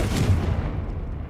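A Confringo blasting spell explodes in Hogwarts Legacy, a single close, heavy boom that rumbles and fades out over about a second.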